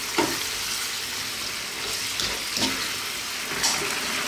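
Pork and vegetables stir-frying in a hot pan over high heat with a thickening sauce, a constant close hiss and sizzle broken by a few scraping stirs.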